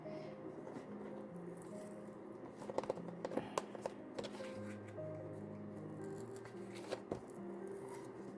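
Paper being torn by hand to remove the excess from a handmade entomology-themed journal page, a few quiet crisp rips and rustles close up amid soft handling noises.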